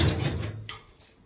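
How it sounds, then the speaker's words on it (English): A stainless steel drawer slides out of an old Zanussi Special S610 dishwasher during disassembly, a close scraping rub of rollers on metal sliders followed by a couple of lighter knocks, with no talking. "That's that drawer out."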